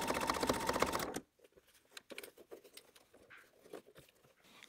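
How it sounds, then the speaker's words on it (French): A sewing machine topstitching along the zip of a flat lined pouch runs in a fast, dense whirring burst for about a second, then stops, leaving faint handling clicks and small taps. "Tu peux coudre plus près du zip comme moi si tu préfères."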